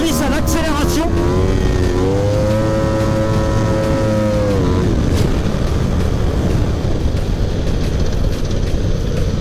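Drift car accelerating hard out of a corner at a circuit drift meet, engine note rising steadily then holding at high revs, loud and continuous with tyre and exhaust roar throughout.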